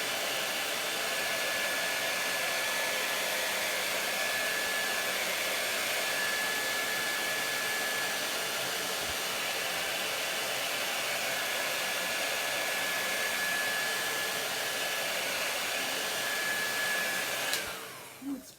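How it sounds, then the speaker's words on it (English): A hair dryer blows steadily on a chalk transfer at a craft table, a constant close whooshing hum with a faint whine that runs almost the whole time before cutting off near the end. "I'm just going to give this a little dry without blowing everything off my table."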